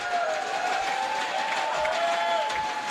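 A large crowd at a live Summoners War esports tournament in Los Angeles, steady cheering and applause sustained throughout, dense and continuous without distinct voices.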